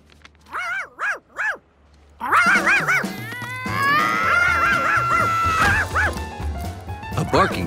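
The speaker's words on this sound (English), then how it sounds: "A barking Charky was even worse than a puddle." A cartoon dog barks in a run of quick yips, three clear barks alone at first, then more barking mixed with crashes, scuffling and other voices in a busy scene.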